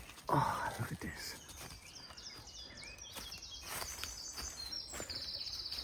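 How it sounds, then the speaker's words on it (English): Birds singing in bluebell woods, several faint chirps and trills scattered from a distance amid quiet rustling, with a short human sound near the start and a rapid repeated call toward the end. "You hear the birds?"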